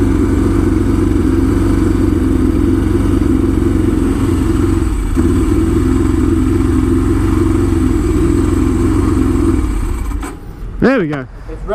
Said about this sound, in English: It's revving kind of high